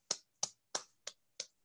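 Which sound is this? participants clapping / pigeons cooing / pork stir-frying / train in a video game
participants clapping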